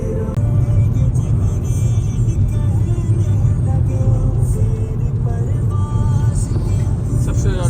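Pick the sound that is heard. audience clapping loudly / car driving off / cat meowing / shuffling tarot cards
car driving off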